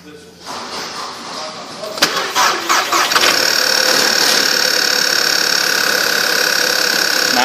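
A 2012 Volkswagen CC engine cranks and catches at about two seconds, stumbles briefly, then settles into a loud, steady idle close by; no one speaks.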